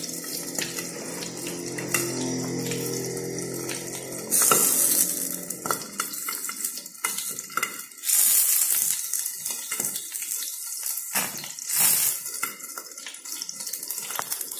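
Pork belly for crispy liempo (lechon kawali) pops and sizzles in hot frying oil, with dense crackling, several louder spitting bursts, and a faint clatter like stirring or water running in the background.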